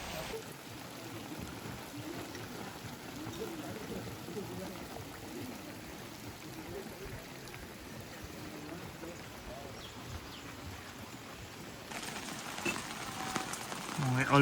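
Steady, unbroken rain pours over a campsite during a typhoon, a dense continuous wash of water noise that swells slightly louder near the end.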